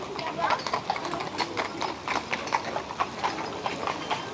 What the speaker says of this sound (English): You can see some tourist transport ways with these horses.